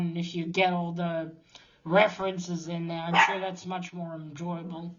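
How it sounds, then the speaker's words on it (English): A pet dog barks indoors in short, sharp yaps that sit under a person's steady nearby talking. "That's my dog there."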